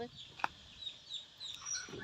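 Ducks freshly let out make a few faint, distant calls, one sharper squawk among soft scattered cries, over a quiet rural background.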